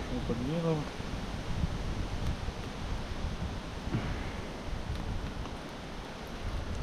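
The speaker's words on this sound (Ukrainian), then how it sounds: "Вітер такий піднявся, що навіть тяжко закидувати." Steady, strong wind roars and buffets the microphone outdoors by the Teteriv river, with a faint voice briefly audible early on.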